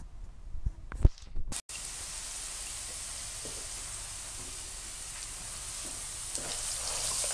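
Onions fry in a pan in a home kitchen, giving a steady soft sizzle that runs on after a few brief clatters at the start.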